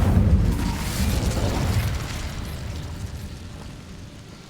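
A fiery Incendio spell blast in Hogwarts Legacy bursts out loud and close as a low roaring boom, then rumbles and slowly fades away.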